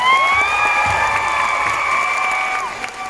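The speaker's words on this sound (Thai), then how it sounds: "จะไม่ปรบมือให้เขาหน่อยนะฮะ" A concert audience at the Aksra Theatre cheers loudly with high-pitched screams, whoops and applause. The sound is dense and continuous and fades slightly toward the end.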